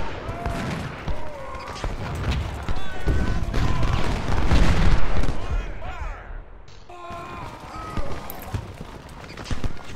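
Rolling musket fusillades from Civil War infantry in the game Ultimate General, firing on cannons, crackle continuously at mid-distance, with heavier booms and bursts rising and falling throughout.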